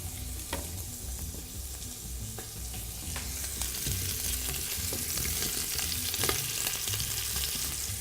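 Potato pieces cut like fries fry in fat in a pan, a dense continuous crackling sizzle that swells slightly over time, with faint stirring taps, close up and without talk.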